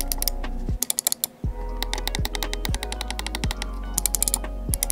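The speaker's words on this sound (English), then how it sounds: "When it comes to clicks on this mouse, it feels really, really nice and tactical." Crisp, tactile clicks of a Razer Basilisk X HyperSpeed wireless mouse, heard up close and alone in quick irregular bursts, some single and some rapid double clicks.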